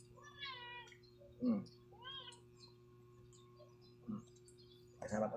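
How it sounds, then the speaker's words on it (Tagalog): A cat meows several times near a meal of lechon, cucumber and pineapple: drawn-out, wavering cries early on, then shorter calls later, over a low steady hum. "Kasama pa tayong pusa."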